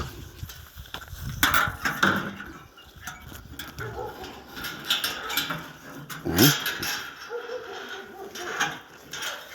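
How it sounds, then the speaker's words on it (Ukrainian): Dogs bark in short bursts amid clattering and rustling noises, loud and close, with some indistinct activity around. "зараз собаки будуть тут"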